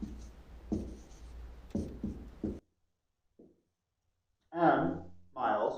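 A marker or pen scratches and squeaks across a board during a precalculus lesson, in short bursts separated by a quiet gap, with a teacher talking nearby.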